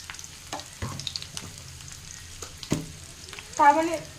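Spices for an egg curry fry in a pan, a quiet sizzle under scattered clinks and scrapes from stirring that swell into a louder burst of frying near the end.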